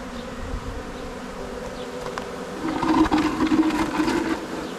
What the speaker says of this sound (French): on va laisser l'essaim s'installer tranquillement